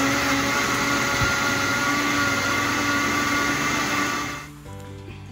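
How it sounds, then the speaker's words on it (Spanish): A blender whirs loudly and steadily for several seconds, then winds down and stops near the end. "Le vamos a agregar un poquito de agua para que nuestra licuadora empiece a jalar."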